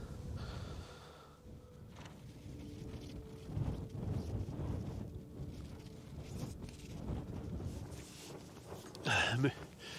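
Strong wind buffets a tent in gusts, rumbling and flapping at moderate level with louder surges toward the end, while faint breathing and movement sit underneath.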